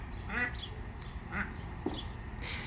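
Ducks quack in short scattered bursts at moderate distance over steady outdoor background noise, with a few softer calls between.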